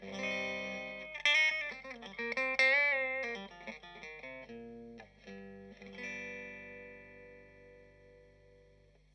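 Electric guitar through a Fender Twin Reverb amp with no pedals, aiming for a particular tone: a fairly quiet run of picked melodic notes with bends, then long sustained notes decaying gradually into near silence.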